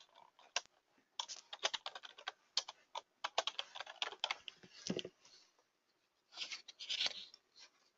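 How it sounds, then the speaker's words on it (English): Someone types on a computer keyboard in quick, uneven runs of soft clicks and taps, with short pauses between bursts, close and quiet, without speech. "I can just type in a name"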